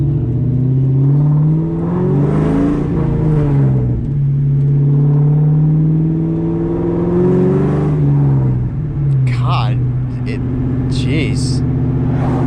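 A Newedge Ford Mustang with a lightly modified exhaust revs loudly nearby, the engine note swelling and dropping in a few long pulls over a constant rumble, with a person talking over it.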